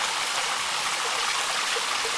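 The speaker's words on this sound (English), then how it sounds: "Here you have a waterfall." Waterfall pouring over rocks at a cottage, a dense, steady roar of rushing water close by with no pauses and no voices.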